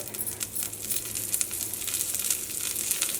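Lentils sizzle and crackle in hot ghee in a pan for payasam, a steady, fairly quiet frying hiss with occasional stirring clinks, no talking.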